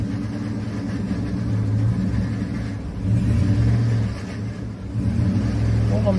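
A 2012 Chevrolet Avalanche with a weak transmission revs as the gas is pressed, a loud low engine drone rising and falling over a few seconds, with some talking nearby.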